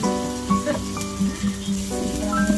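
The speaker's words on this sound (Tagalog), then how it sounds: "Tinry lang natin kunti yung ginger saka yung ibang ingredients." Ginger and other ingredients fry in an electric pot with a steady, close sizzle, while a faint tonal hum and soft stirring clatter run underneath.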